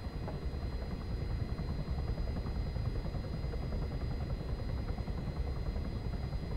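A helicopter in the military simulation game ArmA 3 lifting off, its rotor and engine forming a steady, loud, continuous low drone with a fast chopping texture, and no speech over it.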